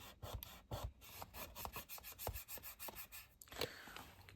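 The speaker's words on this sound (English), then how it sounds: "Use a burnishing tool." A burnishing tool rubs quickly back and forth over card for a gingerbread house craft, making soft, rhythmic rasping strokes, close and quiet.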